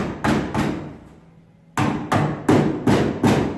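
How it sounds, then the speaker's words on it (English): A rubber mallet knocks a chrome trim strip into a VW T3 cab door: about seven sharp, close blows, two quick ones, a short pause, then a steady run of five evenly spaced strikes. "Just bashed it down with my mallet"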